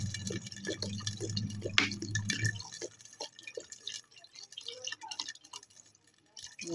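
Broth poured into a pot of chicken soup gives a steady liquid pouring rush for a couple of seconds, then gives way to faint drips and small clinks in a quiet kitchen.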